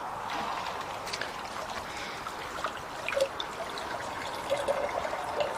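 Water overflows a garden pond holding about 650 litres and trickles steadily down a path. The flow is a soft, continuous babble with small splashes.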